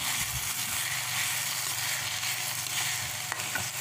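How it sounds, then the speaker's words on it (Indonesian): Sambal with small shrimp sizzles steadily in a pan while being stirred, with a continuous loud frying hiss and faint scraping of the stirring utensil, close up and without speech. "Nah, setelah sudah mendidih, kalian bisa aduk ya. Jangan lupa diaduk terus pokoknya ya."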